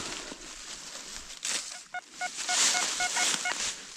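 A metal detector sweeps outdoors and gives a series of short beeping tones that change pitch as the signal shifts, over faint rustling and handling noise.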